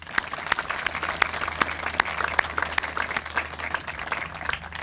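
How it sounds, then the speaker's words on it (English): Audience applause at a downtown theater groundbreaking ceremony, a steady crowd of clapping with sharp individual claps standing out, sustained at moderate volume throughout with no talk. "a round of applause for all of those involved"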